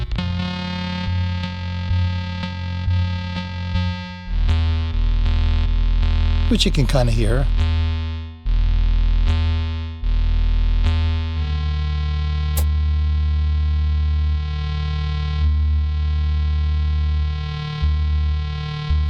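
A deep, distorted Maestro USS-1 synthesizer tone with a heavy sub-harmonic layer shaped by an envelope attack swells and shifts, while someone talks briefly over it.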